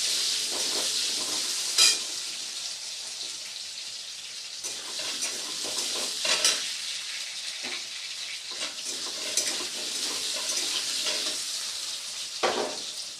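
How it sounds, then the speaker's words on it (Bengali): Potatoes fry in hot oil, stirred now and then, giving a bright continuous hiss and sizzle with occasional scraping clatters from the spoon, close and moderately loud. "প্রথমে আলুটাকে দিয়ে কিছুক্ষণ নেড়ে চেড়ে আলুটাকে ভেজে নেব।"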